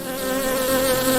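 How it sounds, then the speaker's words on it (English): A tiny bee buzzing by in a children's story, heard as a steady, loud, close droning hum that holds for its full length, with no voices. "Just then, a tiny bee, no bigger than his thumb,"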